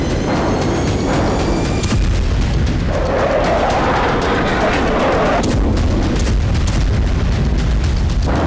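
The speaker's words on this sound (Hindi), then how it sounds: "रूस की जमीन पर विदेशी मिसाइलों से ताबड़तोड़ धमाके।" Missile strikes on Russian territory roar as loud, continuous blasts and rumbling booms, dense and overlapping with crackling bursts throughout, with no voices.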